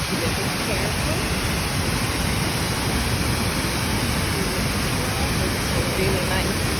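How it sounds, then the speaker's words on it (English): Jagala waterfall in Estonia roars as a dense, continuous broadband rush of falling water, steady and loud with no breaks. "We just finished our Hagala Waterfalls."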